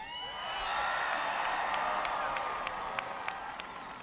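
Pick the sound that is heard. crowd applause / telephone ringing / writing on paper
crowd applause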